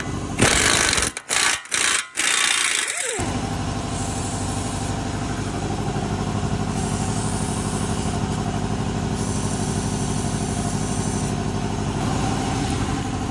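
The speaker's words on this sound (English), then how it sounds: "Put your 36 millimeter on the axle nut and take that off" A 36 mm socket works loose the axle nut on a Chevy Equinox's passenger-side axle: a few sharp irregular mechanical bursts, then a long, steady, loud mechanical drone that holds at an even level to the end.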